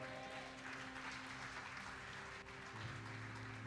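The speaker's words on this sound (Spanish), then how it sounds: "¿Cuánto le dan un aplauso al Señor?" A church congregation applauding during a Sunday morning service, a quiet, sustained patter of clapping over a steady hum, heard at a distance with no clear breaks.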